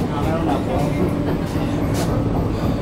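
An AC local commuter train running between stations, heard from inside the carriage as a loud, steady rumble and rolling roar, with passengers talking over it.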